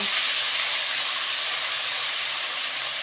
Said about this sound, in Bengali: এবারে আমি আদাটাকে ভালো করে ভেজে নেব।